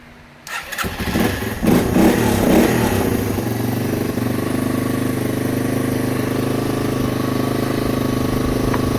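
A Yamaha XT225 motorcycle on full choke catches and starts after sitting for ten months, then idles steadily and loudly close by, its engine note continuous and even with no talk.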